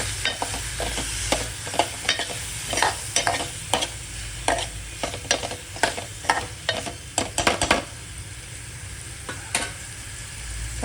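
Spiny gourd and soaked chana dal are stirred in hot oil with frying masala, a spoon scraping the pan in quick irregular strokes over a steady sizzle.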